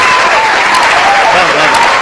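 An audience at a poetry recital claps loudly and steadily for a couple of seconds, a close, full wash of hands with voices mixed in.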